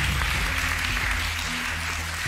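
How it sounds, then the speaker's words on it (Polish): A Polish TV quiz show studio audience applauding, a steady wash of clapping that carries evenly from start to finish at moderate loudness. "Czemu klaszczą?"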